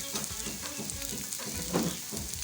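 Yogurt stirred into a frying spice masala for a doi katla fish curry, giving a steady close sizzle with scraping stir strokes and a brief louder splutter near the end.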